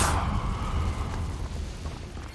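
Confringo fire spell blast in Hogwarts Legacy: a sharp, loud burst at the start that decays into a rumbling, fading roar, with no talking.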